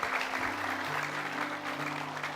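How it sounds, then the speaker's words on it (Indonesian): A stage show audience claps for a performer named Ibu Romla, a continuous crowd applause with a sustained musical tone or hum running underneath throughout. "Boleh minta tepuk tangannya sekali lagi untuk Ibu Romla?"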